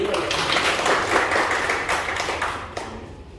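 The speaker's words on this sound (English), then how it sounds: "Give him a clap. One more." A group of people claps together at a company gathering, a steady burst of dense applause lasting a few seconds with some murmuring voices mixed in.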